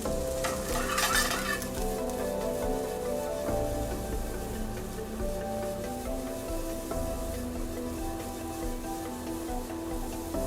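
Vegetables sautéed in butter with salt and ginger are stirred in a pot as water goes in, giving a steady bubbling sizzle with scraping and clinking of a utensil against the pot, loud and continuous with no talk.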